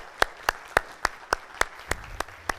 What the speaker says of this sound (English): So give some applause.